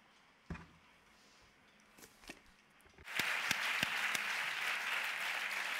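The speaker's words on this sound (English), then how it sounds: "I would just request a round of applause for Cristina de Middel and Joan Fontcuberta." Audience applause at a photography roundtable with Cristina de Middel and Joan Fontcuberta, breaking out sharply after a few scattered claps and room noise, then holding steady as a dense, fairly distant wash of clapping to the end.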